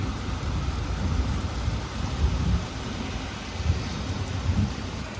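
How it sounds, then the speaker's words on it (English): Steady heavy rain with low rolling thunder during a strong thunderstorm in London, a dense continuous roar with deeper rumbles swelling every few seconds, no voices. "I just can't get over how like strong the thunder and lightning is."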